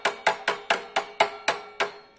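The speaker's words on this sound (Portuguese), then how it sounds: "Agora eu vou pegar esse martelinho pequenininho aqui e vou acabar de entortar a chapinha." A small hammer taps repeatedly on a metal tab, bending it on Honda Titan 99 motorcycle brakes: eight sharp, evenly spaced metallic strikes about a quarter second apart, close and clear with no talk.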